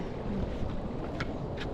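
A small fishing boat rocks on open water in steady wind, with constant broadband rush and buffeting, and faint splashes of water against the hull, no voices.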